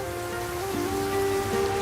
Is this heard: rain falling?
yes